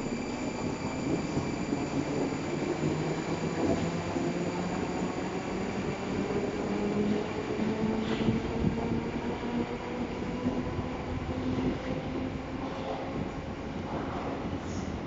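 Moscow metro train on the Butovskaya line pulling slowly away from a station, with a steady rolling rumble and rising whine of motors heard close from the platform, and no talking.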